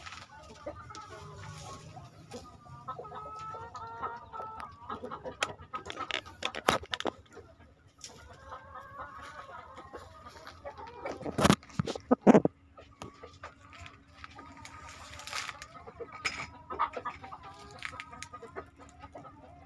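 Chickens cluck and murmur softly around a backyard feed bank made of layered waste and soil, with scattered louder squawks and faint clucks continuing throughout the clip.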